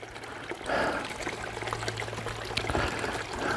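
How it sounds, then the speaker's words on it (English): A tiny stream of water trickles down a rocky trail in the Appalachian woods, making a soft, continuous burbling heard close by with no voices. "There's a tiny little stream coming down here,"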